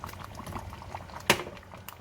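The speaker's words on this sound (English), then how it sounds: "I'll allow this to boil for another 3 minutes" Banga stew, a Nigerian palm-nut soup with fresh ginger juice just stirred in, bubbles and simmers softly in a pot with a low gurgling texture and one sharp clink partway through, with no talking.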